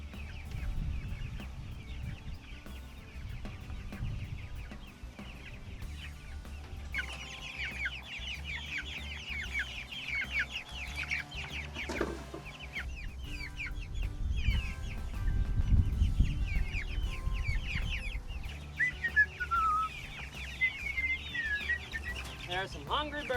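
A flock of Cornish Cross meat chickens clucks and peeps steadily in a backyard coop, a busy chorus of many small calls under occasional movement and a voice talking.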